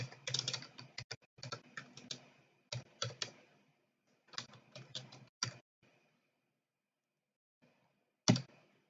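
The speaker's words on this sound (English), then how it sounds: "Just type dummy data." Bursts of computer keyboard typing entering dummy data into a registration form, clicky keystrokes in quick clusters separated by pauses, ending with a single sharper key press after a silence.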